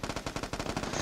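PPSh submachine gun fire in a video game, a loud rapid automatic burst of evenly spaced shots lasting about a second, close and unbroken.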